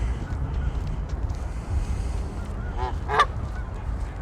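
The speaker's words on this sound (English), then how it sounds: "Geese." Geese on Wascana Lake in Regina in winter give a brief burst of honking calls, heard against steady wind rumble buffeting the microphone.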